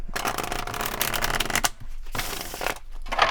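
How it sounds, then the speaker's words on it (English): Tarot cards being shuffled by hand, a continuous papery riffling and flicking that runs close and fairly loud, broken by two short pauses before resuming. "Let me get one good shuffle in here."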